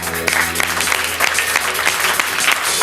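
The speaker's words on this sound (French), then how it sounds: "on applaudit" A group of people clap together in a steady burst of applause that carries on throughout, with a few voices mixed in.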